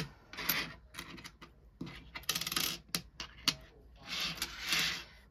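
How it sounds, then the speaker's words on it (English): Pennies and other coins being counted and slid into stacks: repeated metallic clinks, jingles and rubbing scrapes in irregular bursts, close up and fairly quiet, with no talk. "I thought it'd be nice to count our coins."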